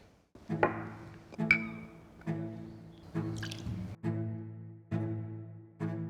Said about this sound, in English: I'm just going to put a little bit of water in, swirl it around like that, and I'm going to dump it in here